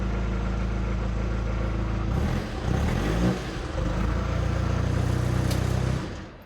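A VW Golf MK5 2.0 TDI cup car's diesel engine idles close up with a loud, steady low throb, briefly stumbling and surging midway, then settling back to an even idle before cutting off at the end.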